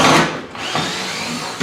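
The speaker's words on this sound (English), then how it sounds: "So better than this cordless drill, basically a driver" A short burst of a cordless drill whirring as it drives a screw into a roof panel, loud and close, with the motor pitch shifting briefly.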